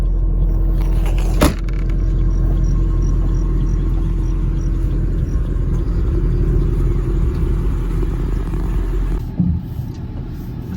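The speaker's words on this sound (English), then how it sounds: "Okay, so driving the Mustang GT." A 2013 Ford Mustang GT with a 5.0L V8 drives along, its low engine rumble steady and close throughout, with a brief sharp knock early on and the drone easing near the end.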